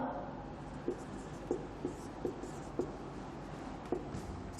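Chalk or marker tapping and scraping on a board during a Class 12 maths lesson on relations and functions, a string of short, regularly spaced strokes over quiet room tone, with no talking.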